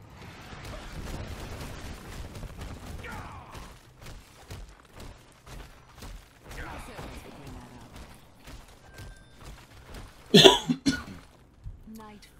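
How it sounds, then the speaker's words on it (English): Talking, then a few sharp, loud coughs burst out close to the mic near the end, followed by a final short cough. "Don't mean to cough in the mic."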